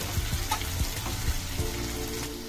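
Tomato pieces frying in a pan for red wheat rava upma make a steady close sizzle with a few soft stirring knocks, no talking.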